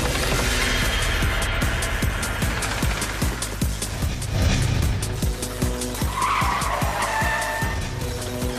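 Car in a cartoon chase racing fast with loud screeching, skidding tires over a roaring engine, continuous and close throughout.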